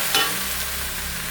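Okra fries in an uncovered pan with a soft, brief sizzle and a quick stirring scrape near the start, heard up close and quiet.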